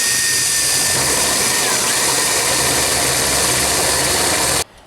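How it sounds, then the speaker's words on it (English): A power drill boring a hole while building a compost toilet, a loud continuous whine with a steady motor drone that runs for over four seconds before stopping suddenly, with no talk. "To cut this out, I'm first going to drill myself a hole."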